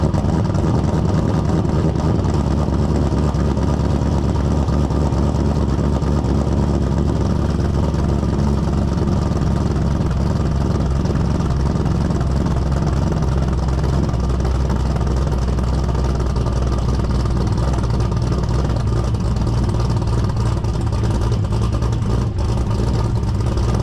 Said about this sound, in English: nice little cold start at 6:30 a.m.